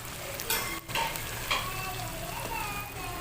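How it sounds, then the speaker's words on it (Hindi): Green chillies, chopped and whole, cooking with coriander leaves in an arvi (taro root) masala, giving a steady close sizzle with light stirring scrapes and a few sharper clinks, no talking. "अब मैं इसमें कटी हुई हरी मिर्च, साबुत हरी मिर्च और धनिया ऐड करके थोड़ा पकाऊंगी।"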